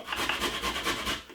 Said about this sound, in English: I'm gonna use this part of the grater to grate the ginger